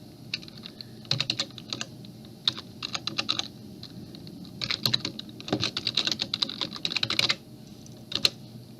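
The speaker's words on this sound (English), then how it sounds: "And then we type in our password." Password being typed on a computer keyboard during a login, in bursts of quick, fairly close key clicks separated by short pauses.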